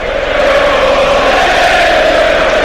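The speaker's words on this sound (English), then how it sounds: "And the vocal support for the home team continues." A home crowd at Leeds United chants during a football match against Manchester City, a loud, steady roar of massed voices that fills the whole clip.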